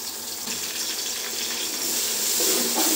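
Fresh garlic paste frying in oil for chicken biryani gives a steady, even sizzle with a bright hiss that runs unbroken throughout and swells a little toward the end, with no voices over it.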